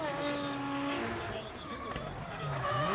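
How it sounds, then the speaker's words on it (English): Drift car spinning out at Ebisu Circuit West Course in Fukushima, with a revving engine, loud squealing tires and skidding, pitch sliding down as the car rotates, close and intense. "I think that's the first time I've seen him spin out too."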